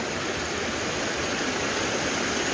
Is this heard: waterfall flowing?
yes